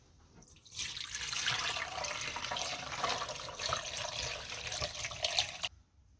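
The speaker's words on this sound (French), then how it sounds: "on va filtrer notre bouillon." Onion soup broth poured through a strainer, a continuous close splashing, trickling flow of liquid lasting several seconds before cutting off abruptly, with no talking.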